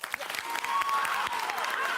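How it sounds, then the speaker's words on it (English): A live audience breaks into applause, a short, dense wash of clapping that swells and holds steady for about two seconds, fairly faint, with a voice partly over it. "Clap if you think that she should trick him."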